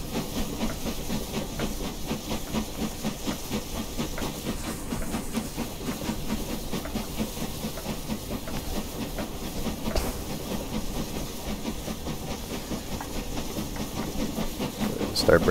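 Steady broadband hiss of steam venting from the cylinder cocks of an LMS Princess Royal 4-6-2 steam locomotive in Train Simulator, continuous and fairly loud, with faint rhythmic mechanical clatter and a brief sharper burst near the end.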